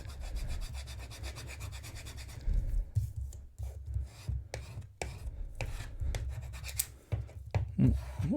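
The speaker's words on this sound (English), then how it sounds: "get a squeegee, a credit card, whatever you got to hand, and just make sure they're stuck together tight" A squeegee or card presses and scrapes across sticker vinyl, making close, uneven scratchy strokes and soft thumps in short bursts, with no speech.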